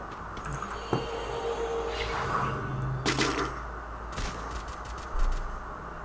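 Gunshots in the mobile battle-royale game Free Fire, a few sharp reports spread irregularly across a steady background hum, with one louder burst near the end.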